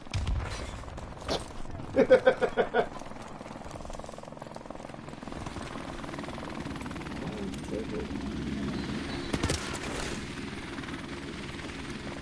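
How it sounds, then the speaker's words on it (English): A video game helicopter thrums steadily beneath bursts of rapid gunfire and scattered shots, the rotor noise continuous and moderately loud while voices talk at times. "Friendly helicopter on the way."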